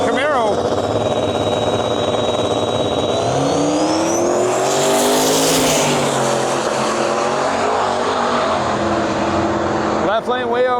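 A drag race launch between an LSX-powered Nova and a 1980 Camaro, two loud engines roaring and rising in pitch as the cars pull away, with a voice talking over the noise.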